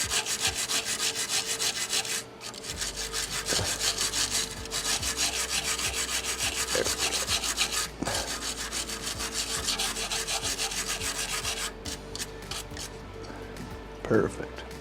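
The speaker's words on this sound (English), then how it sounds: "Sometimes you've got to get in there with a wire brush, which I'll have to do a little bit" A wire brush scrubs silicone off a Samsung plasma TV power supply circuit board (BN44-00516A), making a continuous, close, loud bristly rasping with rhythmic back-and-forth strokes that runs almost without a break.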